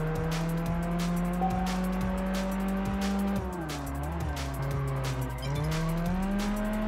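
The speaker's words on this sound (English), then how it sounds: "That was a nice drift." A car drifting in the Test Drive Unlimited video game on PS2, with a loud, sustained engine drone and tire squeal that bends in pitch as the car slides, then a brief dip before the revving engine climbs again.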